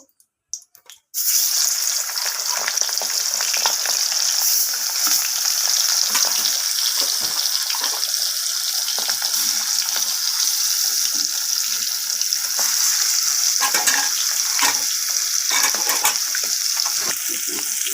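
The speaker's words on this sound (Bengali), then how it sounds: "এরপর আমার তেলটা গরম হয়ে গেছে। এরপর আমার মাছগুলোকে আমি ছেড়ে দেব।" After a short clatter, pieces of rohu fish drop into hot oil in a wok and set off a loud, continuous hiss and sizzle that stays steady and close, with no one talking.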